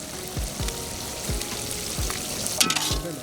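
Egg keema masala with garam masala and spices frying in a pan, heard as a continuous sizzle broken by repeated low thuds and scrapes of a spoon stirring, no one talking.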